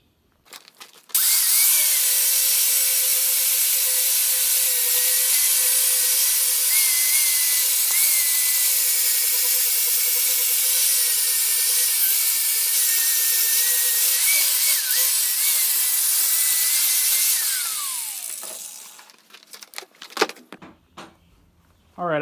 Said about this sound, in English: I just got that sanded down real quick